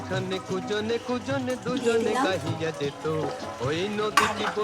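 Fish sizzle and fry in a pan for fish korma, a soft continuous crackle beneath steady talking close by.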